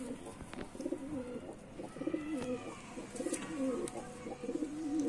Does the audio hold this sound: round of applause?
no